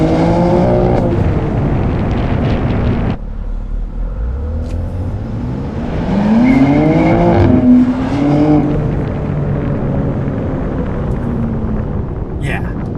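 A BMW M2 G87 turbocharged inline-six engine with titanium equal-length exhaust revs and pulls hard, pitch climbing through gears under steady wind noise, with occasional talk over the drone.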